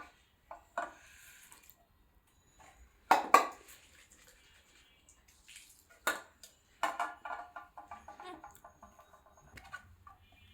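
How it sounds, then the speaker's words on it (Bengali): An aquarium tank is washed by hand, with sparse knocks and clinks of glass, splashes and water drips separated by quiet gaps, heard close by, with no one speaking. "এখন আমার এই অ্যাকোয়ারিয়ামটা ধোবো।"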